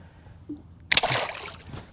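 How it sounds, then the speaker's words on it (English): A large walleye from Green Bay slipping back into the water off a boat, a short quiet lead-in and then one sudden close splash with brief sloshing after. "We'll get this big Jurassic walleye back into the water."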